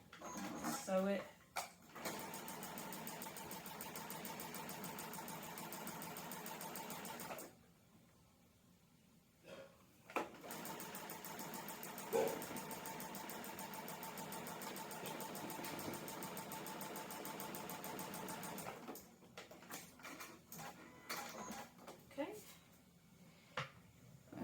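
A sewing machine stitches a quilt cat block with a steady mechanical whirr that runs for long stretches, pauses briefly, then resumes and ends in short stop-start bursts.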